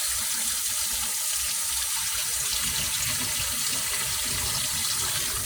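Tap water runs in a steady, even hiss into a sink while rice is washed, continuous and close, with no talking over it.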